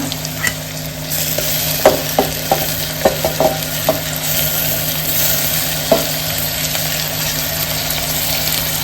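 Tomatoes sauté with ginger, garlic and onion for a val khichdi, a loud steady sizzle broken by a run of sharp spatula taps against the pan early on and another later.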